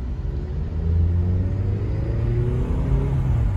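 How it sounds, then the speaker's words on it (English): A Toyota Previa Estima minivan's engine on a short test drive, a low steady rumble that rises slightly as the vehicle accelerates, heard from inside the cabin with no voices. "So there you go, it's just a little quick test drive."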